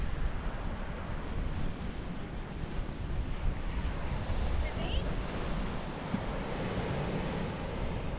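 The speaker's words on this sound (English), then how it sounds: "Just another crazy beautiful beach." Surf rolls onto a beach at Broome, Western Australia, a steady broadband wash of breaking waves with wind buffeting the microphone, continuous and fairly close throughout.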